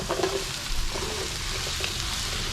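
Food fries in a pan while onion, pepper and vegetables are cooked for a stir fry, a soft continuous sizzle with a few brief crackles and stirring scrapes.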